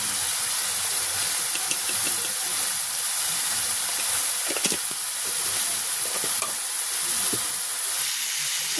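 Spice paste with salt and turmeric sautéing in oil in a village kitchen, a dense, steady close sizzle with occasional stirring scrapes and small pops, no talking.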